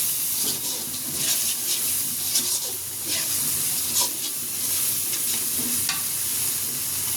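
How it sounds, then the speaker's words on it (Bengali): Ground turmeric, chili, ginger-garlic paste and salt frying with a splash of water for a fish head curry with drumsticks and potatoes, a steady close sizzle broken by scraping stirs of the spoon in the pan. "সামান্য একটু পানি দিয়ে মশলাগুলো কষিয়ে নেব।"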